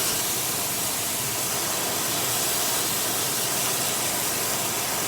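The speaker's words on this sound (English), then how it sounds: "I think I can throw in a little bit of butter." Butter sizzles in a hot cast iron chicken fryer alongside pork loin steaks, giving a steady, loud, broadband hiss that holds without a break and has no talk over it.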